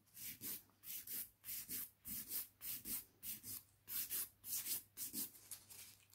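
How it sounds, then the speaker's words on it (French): A nail file works over a Gel-X gel nail extension in quick, regular back-and-forth strokes. The rasping is close and soft and comes in about two dozen rhythmic scrapes. "je le sens très bien quand je lime, que je lime bien une matière qui est vraiment du gel"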